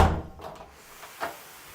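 A door fitted with an under-door draft stopper swings open and shut, a thud and rustling scrape at the start, then a fainter soft bump, close and quiet overall.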